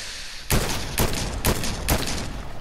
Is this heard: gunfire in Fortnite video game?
yes